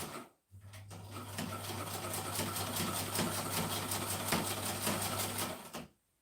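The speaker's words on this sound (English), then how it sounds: "I love the sound of these old machines." An old sewing machine runs steadily and close by, with a constant hum under a busy, rapid mechanical clatter that starts abruptly and stops sharply after about five seconds.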